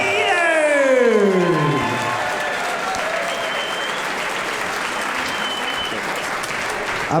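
A crowd at a fight event between rivals from Quebec and Montreal breaks into loud, steady applause and cheering for the two fighters. An announcer's voice trails off at the start.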